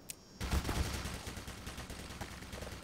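A heavy grenade blast in the video game Black Mesa bursts in after a brief quiet moment, followed by a long rumbling roar and crackling debris that slowly fades.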